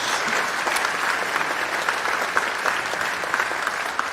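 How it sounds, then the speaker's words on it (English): A concert audience at an anniversary showcase at Deakin Edge applauds the lead mentor. The clapping is warm, even and steady throughout, with a faint murmur of voices underneath. "Round of applause for Mary,"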